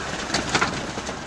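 Pigeons on a rooftop in Madina give soft, low cooing, with a few overlapping calls close by over a steady background hum.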